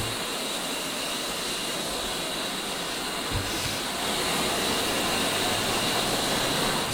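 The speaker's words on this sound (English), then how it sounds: "Start with the left engine." An A-10's left jet engine spools up on start with the APU at full power, a loud, steady broadband roar and hiss that holds throughout with no voices.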